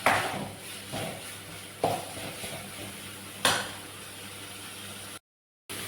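A metal dosa pan is handled on the stove, with several clanks and scrapes spaced a second or two apart over a faint continuous sizzle, then a brief silence.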